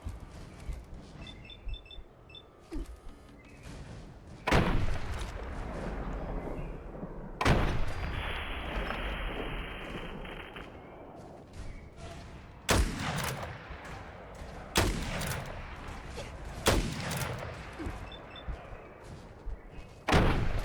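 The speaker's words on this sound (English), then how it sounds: "I better shoot them before they kill me" Gunfire in a Wabbajack-modded Fallout 4 game: loud, sharp bursts of shots recur every couple of seconds over a dense, rumbling battle background, with no talking.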